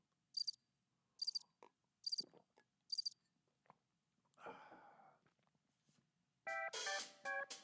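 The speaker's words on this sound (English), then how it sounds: "Play some crickets for you guys." Soundboard cricket chirping plays as repeated short high trills in evenly spaced bursts, followed by scattered clicks, a brief rustle and a denser closing stretch of chirps, with no talking over it.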